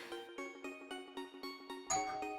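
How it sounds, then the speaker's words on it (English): Doorbell ringing: a rapid series of about eight bright, evenly spaced chime tones, ending with one higher, brighter note, all fairly faint. "Oh, that's the doorbell."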